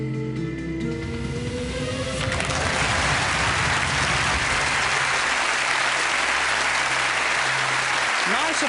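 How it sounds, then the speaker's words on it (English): Audience applause at a close-up magic show in a bar, a dense wash of clapping that swells after a couple of seconds of music and murmur, then stays loud and steady. "Nice applause to start with."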